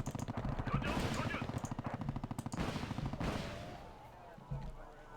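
Heavy gunfire and missile launches from a Wargame Red Dragon battle, rapid machine-gun bursts and booming artillery-like blasts in quick succession, loud and continuous before easing into a quieter rumble with one late thud.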